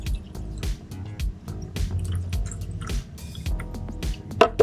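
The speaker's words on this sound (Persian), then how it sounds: "شما باید به اندازه تا سوپاپ تا جای سوپاپ آب بریزید" Water poured into the lower reservoir of a Moka Cream stovetop coffee pot, filling up to the valve; a close, continuous splashing pour with irregular drips and gurgles, no talking.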